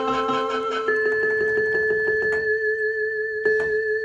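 A Rock Jam RJ-661 electronic keyboard set to its vibraphone voice plays sustained, bell-like chiming notes that ring and overlap, with a fresh struck note near the end, close and clear with no talking.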